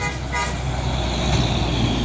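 A Sumatran intercity bus passes close by on the road, its loud engine and tyre roar steady throughout while a horn sounds over the traffic.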